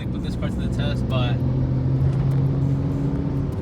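A project car's engine runs steadily during a test drive, with a low droning hum and a sustained tone under continuous close-up talking; the distinct downshift changes are not clearly apparent.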